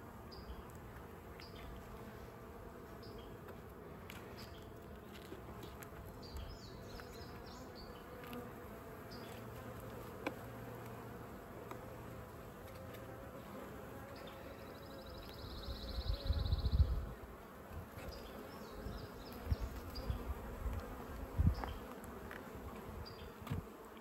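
Honeybees buzz steadily around an open hive during a spring inspection, a dense continuous drone close by, with a few louder bumps and handling knocks near the end.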